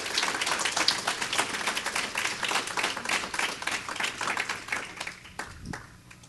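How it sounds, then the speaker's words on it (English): A church congregation at a Sunday morning service claps together in a dense, steady burst of applause that stays loud for several seconds before it thins out and fades. "Give him a big hand clap,"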